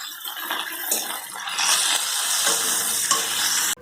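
Cauliflower fries with onion and tomato in a hot pan, giving a close, continuous sizzle with stirring scrapes. The frying grows louder partway through, and no one speaks.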